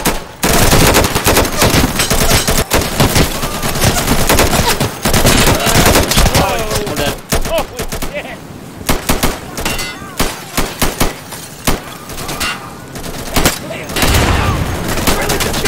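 Dense, loud gunfire from the video game Insurgency, with rapid automatic bursts and single shots rattling almost continuously, thinning into scattered shots before building again, while players talk over the fighting.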